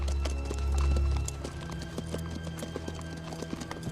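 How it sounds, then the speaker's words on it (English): Several horses, apparently riderless, approach on a Western trail with a steady clip-clop of hooves, fairly faint and distant, with a low rumble at first and a brief whinny. "I don't think there's anybody on them horses."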